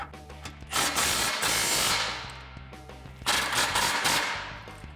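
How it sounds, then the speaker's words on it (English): A ratchet with a 13 mm socket loosens the factory exhaust clamp on a 2014-2018 Silverado or Sierra, giving two long, dense bursts of rapid close clicking. "go back to the 13 millimeter socket to get this factory clamp at the front"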